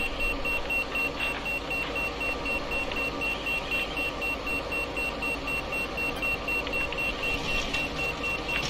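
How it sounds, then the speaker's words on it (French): A video-game fire alarm: a steady high electronic alarm tone sounds continuously, with faint intermittent beeps and a dense hum underneath; no one speaks. "c'est une alarme incendie qui s'est déclenchée dans un lieu privé"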